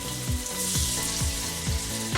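Fried pork pieces and apples sizzling in oil in a pan, a steady bright crackle with soft periodic thumps and scrapes of stirring, fairly quiet and without talk.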